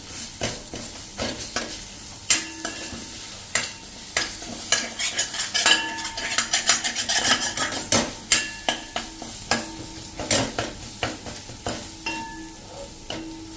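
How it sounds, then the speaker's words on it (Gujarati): Cluster bean paste roasting with spices and flour in a pan over a low flame, a spoon scraping and clinking against the metal in quick irregular strokes over a constant soft sizzle, close up, with no speech. "તો હવે આપણે જે પેસ્ટ કરી છે એમાં જ નાખી દઈએ અને એને પણ આપણે મસાલા સાથે જ લોટ સાથે જ રોસ્ટ કરી લઈએ"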